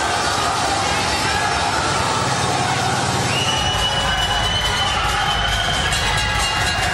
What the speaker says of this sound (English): we can hear the crowd absolutely getting behind Rick